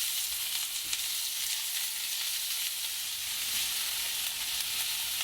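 Chopped onion sizzles steadily in a hot frying pan for an upma breakfast dish, a continuous bright crackle with no pauses.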